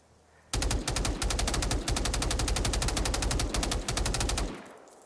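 Rapid burst-fire gunshots from a rifle in Generation Zero, a tight string of loud, close cracks in short groups with brief gaps, firing nearly continuously for about four seconds with no talk.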